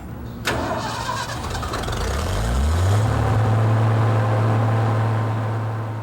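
A Cold War–era jet engine spools up from a start cart, a rising whine climbing over about two seconds after a sudden onset, then settling into a loud, steady roar that holds to the end.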